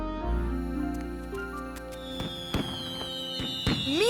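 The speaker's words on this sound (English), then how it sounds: "Look! Fireworks!" Fireworks burst one after another over Paris at the Eiffel Tower, a series of sharp cracks and pops with whistling rising tones, set against a sustained musical background.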